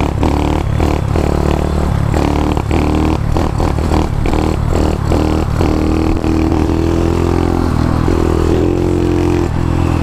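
A Honda Dax 140 motorcycle accelerates close by, its engine revving loud and rough through repeated throttle bursts that rise and fall, with rattling clatter and a steadier drone toward the end.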